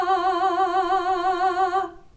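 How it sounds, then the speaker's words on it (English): A single sung vowel held on one pitch with clear, even vibrato wavering rapidly for nearly two seconds before stopping cleanly, solo voice with no accompaniment. "vibrato sounds like this"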